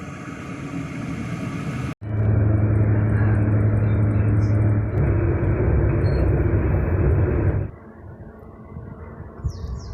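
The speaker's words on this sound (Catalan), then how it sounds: "aquí arriba el tren" A steady, loud mechanical rumble and hum of a train arriving at the station in Struer, Denmark, holding for several seconds before dropping off to quieter background.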